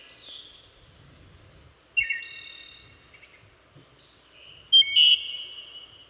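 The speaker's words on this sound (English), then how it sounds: "this is what a bird sounds like" Birds call and sing in short bursts: a few chirps, a brighter trilling phrase near the middle, then a sharp loud call followed by higher notes, all fairly close against a quiet background.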